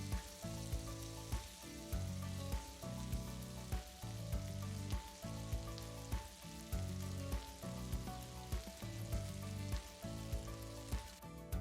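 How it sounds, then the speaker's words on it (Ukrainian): Oil sizzles and crackles softly and continuously as meat-filled pastries fry in a pan over moderate heat, a quiet frying hiss with faint popping throughout. "кладу в неї біляші і пиріжки та смажу на помірному вогні з обох боків до готовності"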